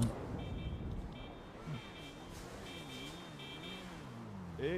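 Car horn honking in a roleplay video game, a few short repeated horn blasts at mid distance under game ambience, with a voice talking over it in a rising and falling tone.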